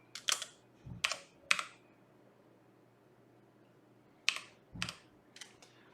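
Close computer-keyboard typing in short bursts of crisp key clicks during work in 3ds Max, with two separate clusters split by a few seconds of quiet room tone and no voices.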